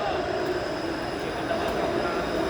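A Toronto subway train runs underground with a steady, loud rumbling roar and faint metallic wheel squeal, continuous throughout with no clear breaks.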